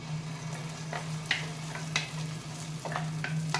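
Large onion, garlic and a tomato fry in hot oil for a chicken dish, a soft steady sizzle under a low electrical hum with a few faint stirring scrapes and no speech.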